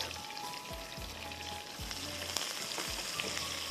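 Two onions sizzle in a quarter cup of oil tempered with curry leaves and whole red chillies, giving a continuous bright hiss with scattered pops and a few low thumps of stirring, and no talk over it.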